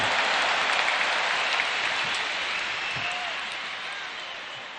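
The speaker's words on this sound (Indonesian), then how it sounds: "Tepuk tangan dulu yang meriah untuk Gus Muhaimin" A large stadium crowd at an election campaign rally for Gus Muhaimin claps in a dense, hissing wash of applause that stays steady, then gradually fades toward the end.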